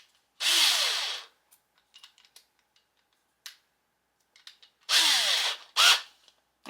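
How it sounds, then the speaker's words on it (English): A handheld power drill boring a hole in a craft piece for a dollar store floral hoop, two loud whirring bursts at close range with light handling clicks and taps between them. "I am going to drill, hopefully very carefully and not drill into my hand"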